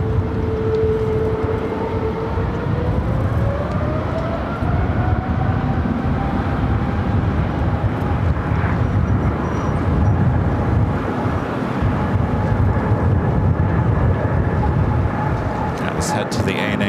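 An ANA airliner in special livery rolls down runway 7 left at LAX amid extreme winds, a steady broad engine roar with a slowly rising whine holding throughout, with radio-style talk running underneath.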